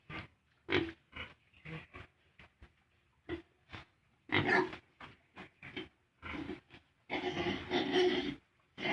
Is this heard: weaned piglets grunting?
yes